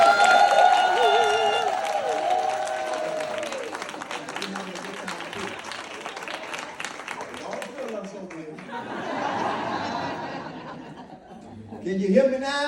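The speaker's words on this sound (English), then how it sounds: "Put a clap back over there." An audience at a live motivational talk claps back with a few seconds of dense clapping, mixed with chuckles and crowd chatter, under a speaking voice.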